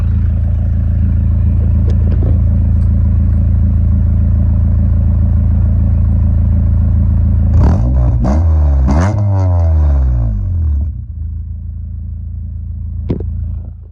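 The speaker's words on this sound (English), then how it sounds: "I'll give it a little rev. See how garbage it sounds." A Honda K24 engine in a Civic idles loudly up close, then revs sharply twice with a rattly, rough tone before settling back to a steady idle.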